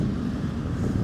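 Wind gusts buffet the microphone outdoors on a farm, a dense low rumble that stays steady and close for a brief moment without any talking.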